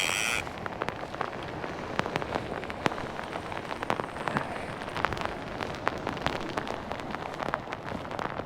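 Steady rain falls outdoors at a fishing spot during a storm, a close, constant patter dotted with sharper individual drops hitting nearby surfaces, with no talking.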